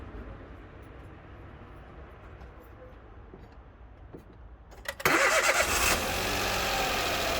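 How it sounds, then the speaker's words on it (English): Car engine cranked with a 20,000 mAh jump-starter power bank: a quiet stretch of low rumble, then the starter turns over briefly around five seconds and the engine catches, settling into a loud steady idle. "You have 30 seconds to start up your engine."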